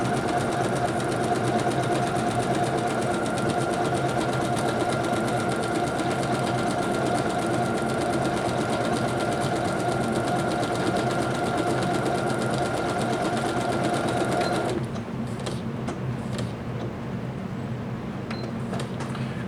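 A Janome Skyline S5 sewing machine stitching metallic thread trim held with leather tape, running in a steady close rapid whir for about fifteen seconds, then stopping, leaving quiet clicks and handling noise.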